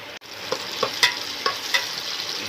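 Ginger garlic paste fries in a pan for korameenu fish pulusu, with a constant close sizzle and a few light taps of a spatula against the pan.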